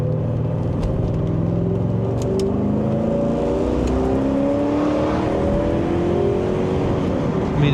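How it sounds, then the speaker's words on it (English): A Nissan car on the road passes nearby, its engine note rising and shifting in a steady rumble of revving and whirring tire noise, with no talking. "it just got passed by a Nissan"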